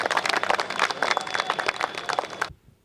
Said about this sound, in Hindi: संजय सिंह बाबूजी को आप जोरदार तालियां बजा के उनका स्वागत।